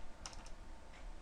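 A computer keyboard being typed on: a short burst of a few quick, faint clicks, then quiet room tone.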